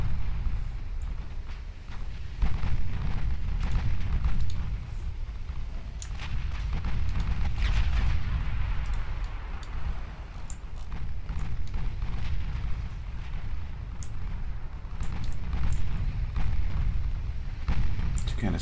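Secondary naval guns on a battleship firing during a fleet battle in Ultimate Admiral Dreadnoughts, with repeated booming reports and rumbling blasts over a continuous low roar, while a voice talks throughout.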